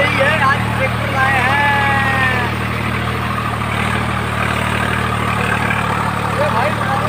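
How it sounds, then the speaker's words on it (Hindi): A tractor engine runs steadily during field ploughing in a village, with a low, continuous idling drone and a brief whining tone early on. A person talks over the engine. "आज ट्रैक्टर आए"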